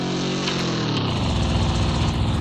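Motorcycle engine in the Roblox game Drag Drive Simulator, a loud, continuous droning rumble that rises slightly in pitch as it revs, close and steady throughout with no talk over it.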